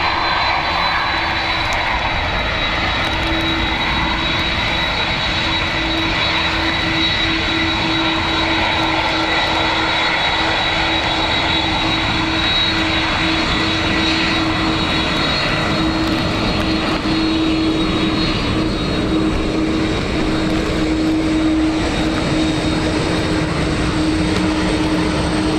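A plane departing Dublin Airport on a windy, wet day roars in a loud, sustained engine drone with a steady tonal whine running through it. The roar holds for the whole stretch with no talk.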